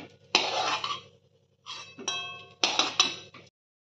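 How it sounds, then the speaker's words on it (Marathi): Fried almonds and raisins scooped from a pan onto a plate, heard as a few close, clear metallic clinks and scrapes of a spoon against cookware in short bursts separated by quiet gaps. "हे काढून घेऊया आता एका प्लेटमध्ये."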